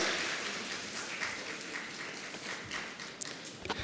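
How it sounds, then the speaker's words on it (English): Applause rises from the audience at a Bombay Chamber energy conference as mementos go to the speakers, a soft, distant patter of clapping that thins toward the end. "A round of applause."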